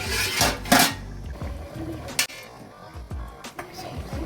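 Chicken gravy stirred in a cooking pot, a spoon clanking and scraping against the metal in a few uneven knocks and rattles, close and fairly loud, with no talk.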